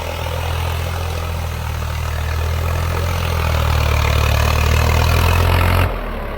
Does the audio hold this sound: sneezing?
no